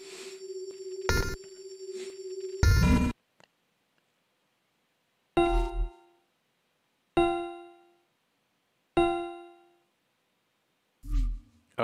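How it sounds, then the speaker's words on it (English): Phone notification chimes from the video game Simulacra: a sustained tonal alert with a loud burst, then four short, separate ding-like pings spaced a couple of seconds apart, each fading quickly, with no talking. "noisy cell phone."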